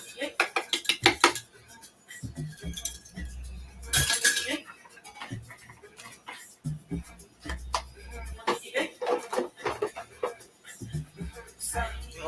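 Kitchen utensils and cutlery clink and clatter as someone rummages for a whisk at home, with repeated close metallic jangles and knocks and a voice talking over them.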